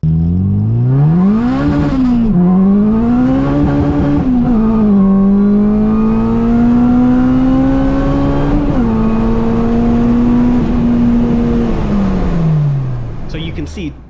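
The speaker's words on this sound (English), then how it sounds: "It blows the tires off like crazy" Supercharged car accelerating hard on a boosted engine, its roar climbing and holding as it pulls, with pitch shifts through the run and a fade at the end; a voice talks over part of it.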